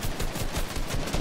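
Rapid automatic gunfire in the Fortnite video game, a dense burst of sharp shots fired in quick succession, loud and close.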